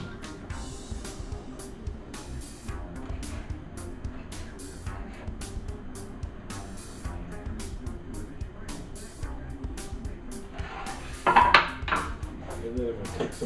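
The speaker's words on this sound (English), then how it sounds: "I'm going to chop up this tomato and sprinkle some of the chunks up on top" A knife chops a tomato into chunks for topping vegetables at a weekend barbecue, giving a run of repeated short taps and clinks over a steady background rumble, with one louder clatter near the end.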